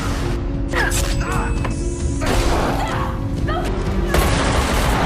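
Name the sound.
explosions and gunfire in film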